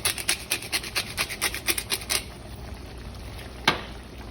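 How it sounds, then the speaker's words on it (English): A hand pepper mill cracks fresh black pepper with a quick rhythmic series of about a dozen dry raspy grinding twists, close and fairly quiet, then stops, followed by a single soft knock. "A little fresh cracked black pepper."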